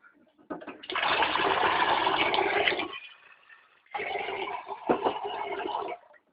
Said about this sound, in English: Actually, I can put some cold water in there.